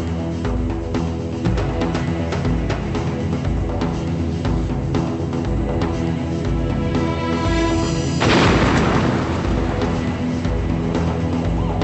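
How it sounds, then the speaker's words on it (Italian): A car bomb hidden in a Volkswagen packed with explosives goes off as a single sudden, loud blast that bursts out of a steady musical background, then trails off with rumbling debris. "la imbottiscono di esplosivo e la parcheggiano nei pressi dell'appartamento di Erica"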